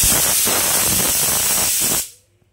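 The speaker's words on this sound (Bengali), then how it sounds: "এখন সিটি পড়ছে" A pressure cooker whistle lets off a loud, steady rush of hissing steam that runs for about two seconds before cutting off abruptly into near silence.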